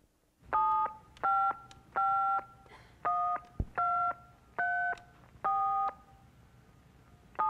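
A telephone number is dialed on a keypad, eight or so distinct touch-tone beeps in an even, steady rhythm, clear and close, in a quiet room.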